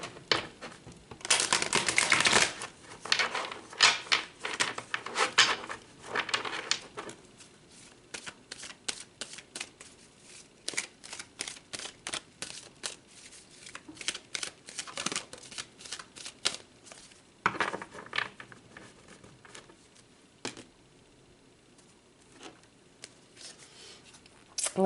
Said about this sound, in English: All right, let's pull another card. Let's pull some tarot cards.